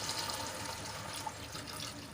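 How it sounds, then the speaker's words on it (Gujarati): About a glass of water splashes and trickles steadily into a pan of ridge gourd curry for about two seconds, a continuous close pouring sound with no voices. "અહીંયા હું એક ગ્લાસ જેટલું પાણી એડ કરું છું"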